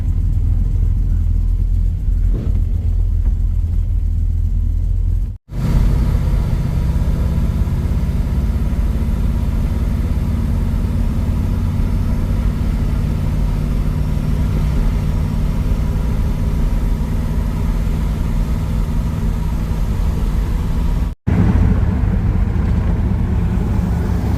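A custom car build cruising on the road, its engine holding a steady, close, low rumble, with two brief dropouts in the sound.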